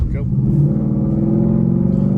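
A Ford Mustang Bullitt's engine rumbles loudly and steadily from inside the car during a downshift, a low sustained drone with a voice talking over it.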